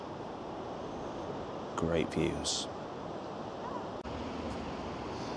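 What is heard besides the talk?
sea waves lapping on Blackpool beach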